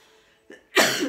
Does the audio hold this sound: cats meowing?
no